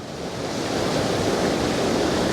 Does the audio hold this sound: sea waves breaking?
yes